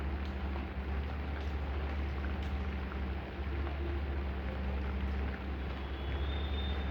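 Rain falls steadily as a dense, continuous hiss with a low background rumble, heard alone at moderate to faint level.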